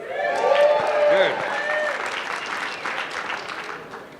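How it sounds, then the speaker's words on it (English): Wedding guests at a Chicago reception applaud the bride and groom, a steady wash of clapping with some cheering that swells early and then tapers off while the crowd keeps going. "Ladies and gentlemen, give a big round of applause for our gorgeous bride and our handsome groom"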